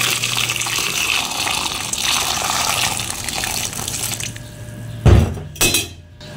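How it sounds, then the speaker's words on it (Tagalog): Boiling water gushes from a kettle over tomatoes in a kitchen bowl, a steady close pour for several seconds, then a couple of short splashing bursts as it ends. "Lagyan natin ng kumukulong tubig ang kamatis para lumambot ang balat"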